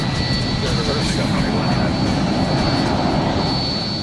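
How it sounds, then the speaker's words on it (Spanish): A Boeing 757 jet roars steadily as it lands and its landing gear brakes are applied, giving a loud continuous rumble with a faint high whine, while a voice talks over it. "Frenos del tren de aterrizaje."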